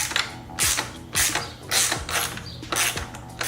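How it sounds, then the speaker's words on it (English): A ratchet wrench with a 17mm socket tightens a motorcycle frame slider bolt, giving four or five quick bursts of close, crisp ratcheting clicks in a steady back-and-forth rhythm, with no talking. "then with a 17mm, screw this on."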